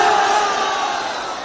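A large crowd at a religious gathering in Lohta, Varanasi roars and chants in unison, a loud sustained wall of massed voices that rises and holds, with no single speaker standing out.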